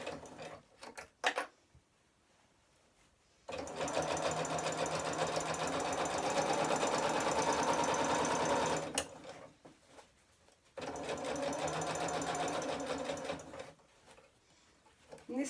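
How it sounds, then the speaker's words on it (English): A sewing machine stitches a lined fabric bag in two long, steady whirring runs separated by pauses, ending with short back-and-forth locking stitches. Clicks and handling noises fall between runs, and nobody speaks. "even when basting, I like to pop in a couple of locking stitches at the end."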